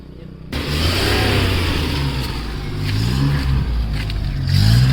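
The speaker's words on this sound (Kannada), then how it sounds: "ಇಂಜಿನ್ ಕಂಡೀಷನ್ ನೋಡ್ಬೋದು ಗೈಸ್ ನೀವು. ತುಂಬ ಸ್ಮೂತ್ ಆಗಿದೆ ಇಂಜಿನು." A 2017 Maruti Omni van engine starts up and runs close by, revving up several times in rising surges over a steady rumble.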